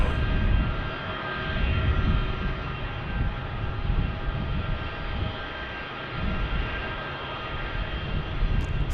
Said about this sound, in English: Listen to those engines. The old Pratt & Whitney.